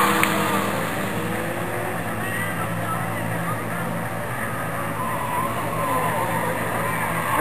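Race cars and trucks roaring off at the green flag on a short oval racetrack, a dense, loud wash of engines with squealing tires that stays steady throughout, with crowd and announcer noise mixed in.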